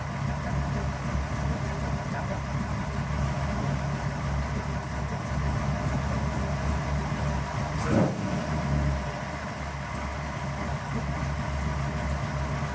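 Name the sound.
1928 hot rod roadster flathead engine idling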